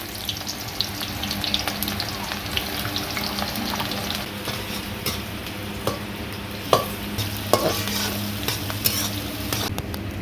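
Onion, two dry red chillies, bay leaf and whole spices fry in hot oil in a kadai for chicken biryani, giving a dense continuous sizzle with occasional stirring clicks, loud and close.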